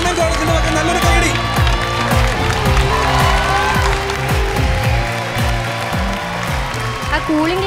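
A college audience applauding at a televised game show, dense sustained clapping filling the hall, close and loud throughout.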